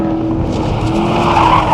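A Corvette E-Ray's 6.2-litre engine roars steadily on a race track, loud and close, with a faint tire squeal mixed into the sustained engine note.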